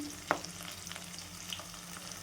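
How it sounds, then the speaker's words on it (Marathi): Ginger, garlic and green chili paste frying in oil: a faint, steady sizzle close by, with one sharp clink of a utensil early on and light stirring sounds, no talking. "तेलामध्ये छान परतून घेऊत आपण"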